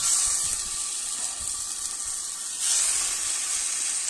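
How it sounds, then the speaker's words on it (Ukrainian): Meat sizzling in a frying pan over a wood fire, a steady bright hiss with faint crackles, close and continuous with no voices. "спочатку, звісно, жаримо м'яско"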